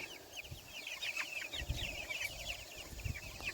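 Meat chickens cluck and chirp steadily while being released onto open grass pasture, a dense chorus of soft calls with occasional low thumps and handling noises beneath.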